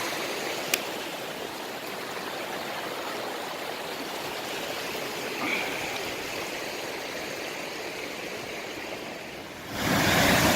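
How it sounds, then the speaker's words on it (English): A continuous rushing waterfall on the Pennine Way roars steadily, dense white-noise water sound throughout, with a brief louder swell near the end. "So there's another stunning little waterfall, full of them."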